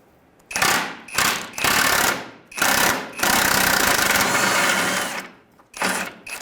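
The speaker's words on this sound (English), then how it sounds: "You can now get on it with an impact." A pneumatic impact wrench hammers at a lower control arm bolt on a 2003-2011 Honda Element, firing in four close, loud bursts, one sustained for about two seconds, with short silent gaps between.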